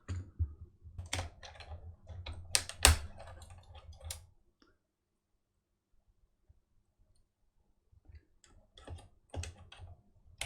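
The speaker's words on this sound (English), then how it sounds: "I might just screwdriver a key out and just see what happens" A screwdriver pries a key off a Sinclair ZX Spectrum +2 keyboard. Faint, scattered plastic clicks and taps come in two bursts separated by several seconds of near silence.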